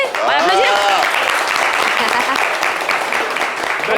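A television studio audience claps loudly and steadily with cheering mixed in, while a voice carries over the start.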